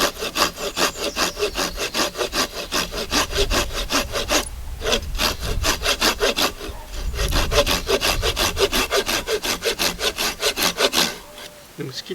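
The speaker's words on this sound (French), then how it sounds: "l'on fait un trait de scie d'environ 1/3 de l'épaisseur" A hand saw rasps steadily through a piece of wood, cutting about a third of its thickness for a pegged mortise joint, in quick back-and-forth strokes, close and loud, pausing briefly twice before resuming.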